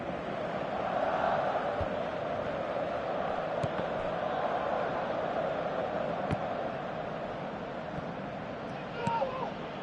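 A stadium crowd in the PES 2017 football video game makes a steady roar and murmur that swells slightly and holds throughout, loud and continuous, with commentary talk under it.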